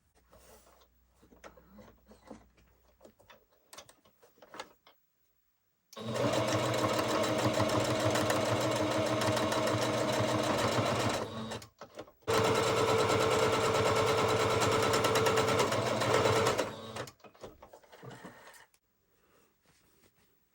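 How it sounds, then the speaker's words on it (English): A sewing machine stitches a fabric seam for a cell phone caddy in two long, steady bursts of rapid mechanical whirring, separated by a brief pause, with quiet handling noises before and after. "And then you're going to stitch in a little bit, leave a gap, and then finish stitching to the edge."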